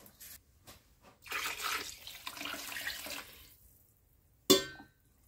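Tap water runs steadily into a cooking pot to cover a chicken carcass for an economical poultry broth, a broadband splashing rush lasting about two seconds before fading, followed by a single sharp clank near the end.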